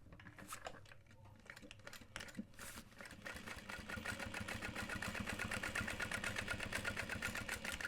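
A sewing machine top stitches a backpack, starting with a few short taps and then settling into a fast, steady mechanical rattle that holds close and constant.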